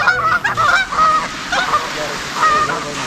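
Geese honk loudly and close by as they fly in during a waterfowl hunt. Repeated nasal honks come in several bursts, with brief gaps between them.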